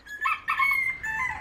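A rooster crows on a mixed farm, two rising-and-falling calls in quick succession over a quiet background, fairly close and clear.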